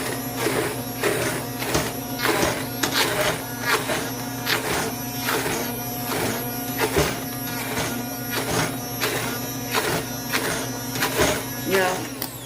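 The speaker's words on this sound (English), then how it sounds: "I'm just blending them down." An electric blender purees peppers for homemade Tabasco-style sauce, a steady whirring motor hum with a rhythmic pulsing chop as the contents churn, close and fairly loud throughout.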